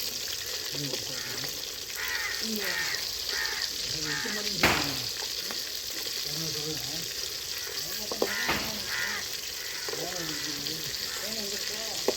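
Kilangaan fish coated in masala of chilli powder, fennel, cumin, ginger-garlic, pepper, salt and lemon juice fries in a pan with a steady close sizzle and crackle, broken by a few sharp pops and faint voices in the background.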